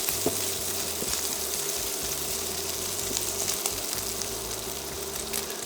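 Bacon fries in oil in a pan with a steady, close sizzle and crackle that runs unbroken, with no voices over it.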